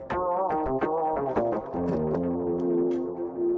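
Rob Papen Predator-3 FM synthesizer patch playing a short melodic phrase of bright, metallic tones with sharp attacks and sustained harmonic notes, clear and steady throughout.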